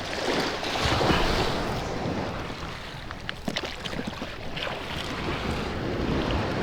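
Heavy sea waves break close to a small boat, a continuous rushing surf layered with wind buffeting the microphone; no one speaks.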